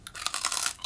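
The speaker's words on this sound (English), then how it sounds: "Do you want to do a crunch test?" Someone bites into and chews a burdock arare rice cracker from a Japanese snack box, producing loud, close, rapid crunches in a dense burst lasting about a second.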